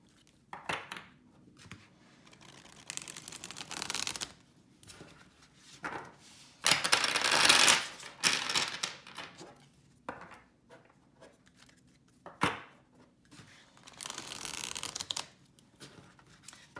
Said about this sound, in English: I'm going to give the deck a little shuffle